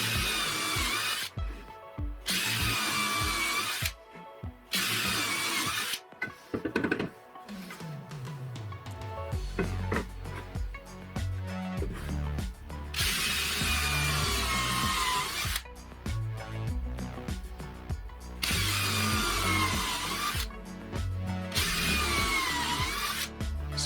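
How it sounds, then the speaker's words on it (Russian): A power drill with a countersink bit boring a screw hole in wood: loud whining bursts of drilling separated by short pauses, with the motor spinning down between runs, close and alone. "Отверстие под саморез нужно подготовить входящим в комплект сверлом с зенкером"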